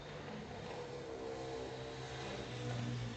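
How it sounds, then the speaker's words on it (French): Motorcycle passing by outside a home, a low steady engine drone heard faintly from a distance, growing slightly louder toward the end with no talking over it. "Je laisse la moto passer."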